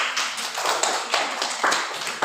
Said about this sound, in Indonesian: Tepuk tangan dulu kelompok 4.